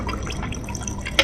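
Liquor trickles into a glass in a brief, close, gurgling pour, ending with a sharp clink.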